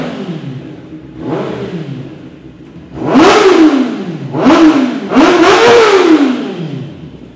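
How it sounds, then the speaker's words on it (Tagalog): Kawasaki ZX-10R sport motorcycle fitted with a Spark exhaust, revving hard in four bursts: a soft blip, then three loud, rising-and-falling throttle sweeps close by, with no talking. "dagdagan natin isang sound check. ZX-10R with Spark exhaust from JYP Racing."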